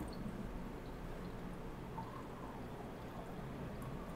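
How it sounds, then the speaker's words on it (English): Purple chemical solution is poured into several beakers in a classroom chemistry demonstration, making a soft, continuous liquid rush. The pouring is faint and steady and runs the whole time, with no voices over it. "I'm just going to pour the solution into each of those beakers."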